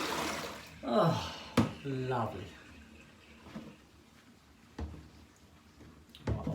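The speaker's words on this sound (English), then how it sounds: "let's tip this water away." Water from a bowl is tipped away into a kitchen sink, making short splashing pours and gurgles with a few sharp knocks, while someone briefly speaks nearby.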